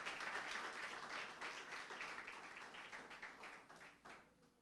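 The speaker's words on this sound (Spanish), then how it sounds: "Un aplauso al Señor" A church congregation applauds steadily for several seconds, the clapping fading slightly toward the end.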